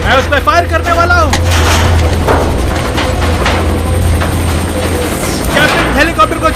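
A helicopter whirs through a Hindi-dubbed action movie, its loud, continuous rotor drone running under dubbed dialogue and bursts of gunfire.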